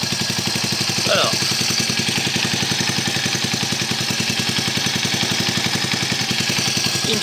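Yamaha SR 125 motorcycle's single-cylinder engine running steadily at idle, a close, even rapid thumping putter with mechanical clatter that continues throughout, with a brief voice over it.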